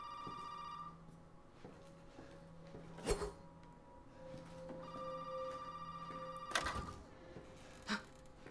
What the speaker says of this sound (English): oh look, it stopped ringing